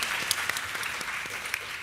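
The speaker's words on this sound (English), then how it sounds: "let's give them another round of applause" A conference audience at the APA Next Summit 2022 claps for the speakers, a dense continuous patter of many hands with a few sharp individual claps popping out close by.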